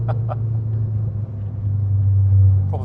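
A tuned 300 bhp Abarth 595 turbo accelerating, a deep, loud engine rumble heard from inside the car that builds and swells toward the end, with brief voices over it.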